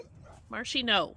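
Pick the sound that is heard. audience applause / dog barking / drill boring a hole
dog barking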